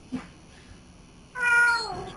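A house cat gives one faint short sound, then after a pause a single clear drawn-out meow that rises and fades, close by and alone with no talk.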